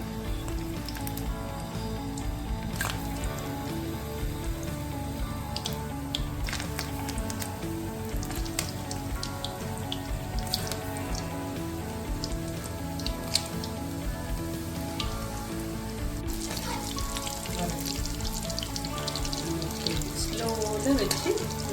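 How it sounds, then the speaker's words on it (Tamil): Chicken balls deep frying in hot oil over low heat give a steady, dense crackling sizzle with scattered pops. It runs unbroken from start to finish, close and fairly loud, and no one talks over it. "இப்படி நல்லா எண்ணெயில் பொரிச்சு எடுக்கணும்."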